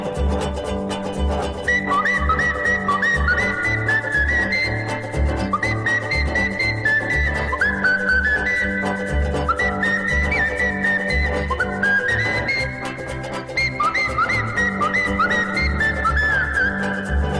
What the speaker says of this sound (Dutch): fluit nog eenmaal dit refrein